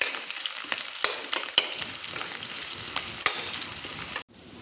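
Onions fry in a pan in a steady close-up sizzle, broken by occasional louder stirring clicks and scrapes, before cutting off abruptly near the end.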